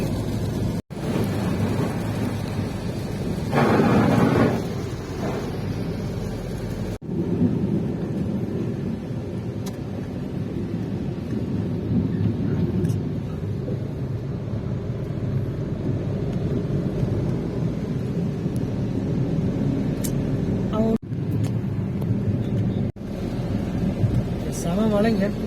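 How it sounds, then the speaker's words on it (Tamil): Inside a car on the Chennai–Bangalore highway during a downpour with thunder, a constant loud wash of rain and road rumble runs throughout, with a brief swell near the start and a few short gaps. "செம மழை இங்க."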